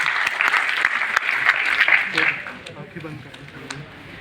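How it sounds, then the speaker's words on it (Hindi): A college debate audience applauds loudly for a few seconds before the final, the clapping thinning out toward the end as a voice carries over it. "फाइनल से पहले एक बार जोरदार तालियां।"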